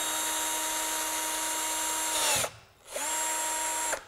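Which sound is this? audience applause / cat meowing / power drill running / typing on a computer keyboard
power drill running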